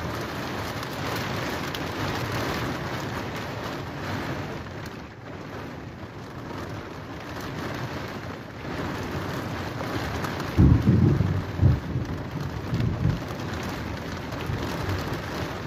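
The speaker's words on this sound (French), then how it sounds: "comme vous pouvez entendre, c'est le gros orage." A heavy thunderstorm in Spain: rain beats steadily on surfaces throughout, and midway a close, deep roll of thunder booms and rumbles for a few seconds before the downpour continues alone.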